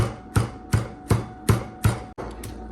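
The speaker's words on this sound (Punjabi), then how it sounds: "ਅਸੀਂ ਪੁਦੀਨਾ ਤੇ ਮਸਾਲੇ ਜੀ ਦਾਣਾ ਚੰਗੀ ਤਰ੍ਹਾਂ ਕੁੱਟ ਕੇ ਬਰੀਕ ਕਰ ਲਵਾਂਗੇ" Mint leaves and whole spices pounded by hand for a mango mint chutney, with five or six heavy, evenly spaced thuds close by, each followed by a short rattle.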